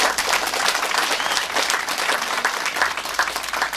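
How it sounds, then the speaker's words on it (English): Steady, dense applause from a crowd at a GAA club pitch opening in Bunclody, many hands clapping continuously at an even level throughout. "I think they do deserve a warm round of applause"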